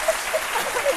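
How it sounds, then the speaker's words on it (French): A studio audience claps on a television talk show in a steady, dense patter of hands at moderate loudness for about a second. "On applaudit très fort"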